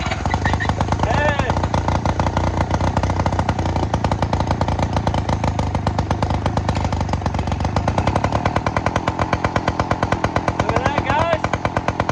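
A small 7.5 HP outboard motor, choke on, roars and putters continuously, loud and close, with a rough uneven idle and brief revving throughout.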